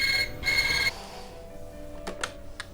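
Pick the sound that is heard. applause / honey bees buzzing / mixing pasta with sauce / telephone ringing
telephone ringing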